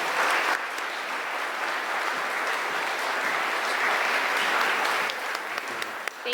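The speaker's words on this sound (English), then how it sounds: "Another big round of applause for them." A room of listeners gives loud, continuous applause for speakers Zach and Ann after a live nature talk, the clapping dense and even throughout with a few sharper claps near the end.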